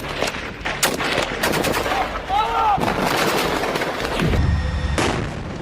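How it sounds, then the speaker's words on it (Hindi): Dense, rapid gunfire crackles in bursts throughout Gaza war news footage, loud and continuous with brief tonal whines overhead. "न जमीन से आती गोलियों की तड़तड़ाहट खामोश हो रही है"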